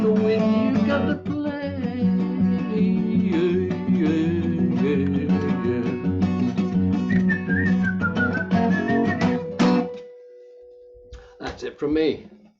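Whistling within a song, a melodic tune over instrumental accompaniment that carries for several seconds before the music stops and brief sounds follow.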